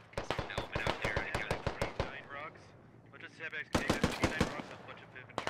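Bursts of automatic rifle fire and single gunshots from a military shooter game, loud and rapid in clusters with a short lull, while someone talks over the shooting.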